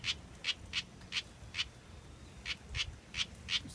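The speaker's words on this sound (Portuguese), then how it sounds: "A curruída é um passarinho comum ainda, ele anda em quintais" A house wren calls in a regular series of sharp, high chirps, about two per second, standing out against a quiet outdoor background.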